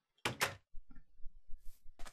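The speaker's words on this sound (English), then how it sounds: "Close the door." A door shuts in the survival video game Sky Tomb: a sharp thump followed by a second knock, then a run of soft in-game footsteps or mining taps and a final brushy bump.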